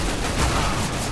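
A shotgun blast in Counter-Strike: Global Offensive rings out as a dense, close burst of gunfire, swelling briefly near its middle within busy game noise.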